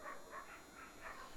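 Greyhound-type racing dogs (Spanish galgos) at a championship race meeting, heard as faint whines and yips repeating in short bursts over a steady background hum.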